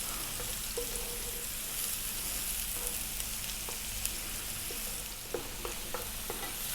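Onions and garlic frying over medium heat in a pan, a soft continuous sizzle broken by scattered light scrapes and taps of a utensil stirring, fairly quiet and close, with no talking.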